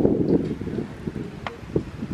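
Strong wind rushes and gusts during a tornado warning, heard from indoors with the windows shut, a loud roar at first that fades to a lower rumble with a few brief knocks.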